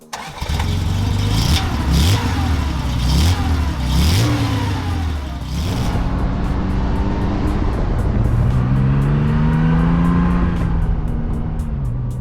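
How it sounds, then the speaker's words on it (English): A 1973 Porsche 911T Targa with a 2.4 engine and 915 gearbox revs up through repeated rising pulls, then settles into a long steady climb, loud and close with no talk. "it's just one of those amazing type of cars that has a great sports car sound"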